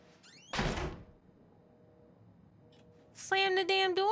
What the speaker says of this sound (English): Slam the damn door.